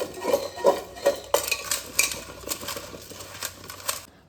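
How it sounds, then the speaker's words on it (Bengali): Raw mango pieces being mixed with salt and turmeric for a sour-spicy pickle, giving a series of close, moderately loud clinks and scrapes of a spoon against a bowl, some rhythmic, alone without talk. "লবণ আর হলুদটা খুব ভালোভাবে মিশিয়ে নেব।"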